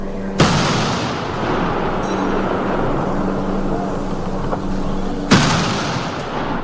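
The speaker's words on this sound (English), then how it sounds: "the late leader was accorded a 19-gun salute" Military gun salute at a funeral in a home compound, with two sharp booming reports several seconds apart over a steady crowd and outdoor rumble.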